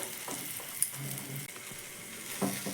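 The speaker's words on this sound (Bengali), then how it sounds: "এবার দুই পিঠ একটু উল্টে পাল্টে লাল লাল করে একটু ভেজে নিলেই এই টিফিনগুলো রেডি।" Parathas made from whole-wheat atta frying in a pan, a soft, steady sizzle with light crackles and a couple of faint utensil clinks, close and fairly quiet.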